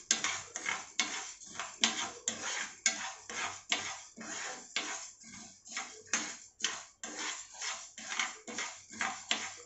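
Mustard seeds dry-roasting in a pan over medium flame for chicken pickle masala, with a steady, rhythmic scrape-and-clink of a spoon stirring against the metal, close and continuous.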